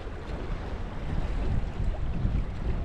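Onshore wind on a rocky beach on Anglesey during a big tide buffets the microphone with a constant low rumble and gusty roar, with waves washing faintly beneath and no voices.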